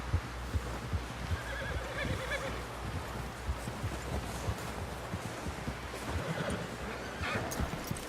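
A horse in Red Dead Redemption 2 whinnies over repeated hoofbeats and a low throbbing hum, a busy mix of animal sounds at moderate volume without speech.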